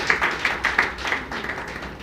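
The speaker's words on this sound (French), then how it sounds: "Nous allons encore une fois l'applaudir et applaudir tous les cadres techniques qui l'ont accompagné" Audience at a cultural agenda launch event clapping, a modest, uneven patter of individual claps with distinct sharp hits, fairly close and not very dense.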